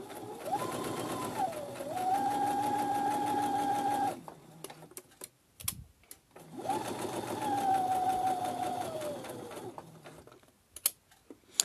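A sewing machine stitches fabric for a tote bag in two sustained bursts of rapid, even clatter with a short quiet pause between them, close and clear.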